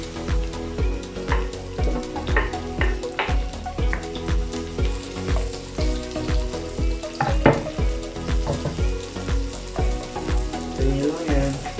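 Ginger, onion and chili sauté in a pan for a lobster Bicol Express, with a continuous sizzle broken by rhythmic stirring scrapes and clatters, close and fairly loud.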